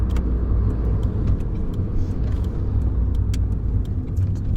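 Close, rumbling engine and road noise from a Ford Puma on the move in fourth gear, a steady drone with small clicks and rattles inside the cabin.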